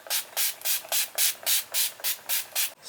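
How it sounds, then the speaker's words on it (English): Urban Decay All Nighter Pollution Protection setting spray mists out in about nine quick, evenly spaced pumps, close to the microphone, each a short airy hiss with no talking. "I'm just going to go in with my Pollution Protection All Nighter Setting Spray by Urban"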